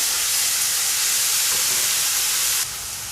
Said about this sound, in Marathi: आता हे कांदे आपण छान असं परतून घेऊया